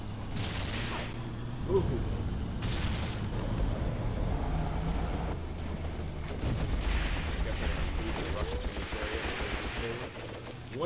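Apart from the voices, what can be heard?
machine gun fire in Graviteam Tactics video game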